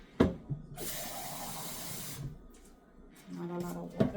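Tap water running onto ground peanuts in a blender jar for homemade peanut punch, a steady hissing pour for about one and a half seconds, then a second shorter splash, with a voice talking at the start and end.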